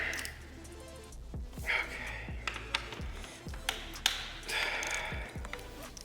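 The connecting rod end of an RB25 engine is tapped during teardown, giving a series of small, sharp, ringing taps about every half second, close and quiet, over faint background noise.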